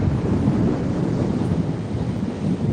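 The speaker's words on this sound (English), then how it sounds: "It is so windy, as you can see." Strong wind at Brighton beach buffeting the microphone, a continuous low roaring rumble with steady gusting texture, loud and close throughout, with no talking.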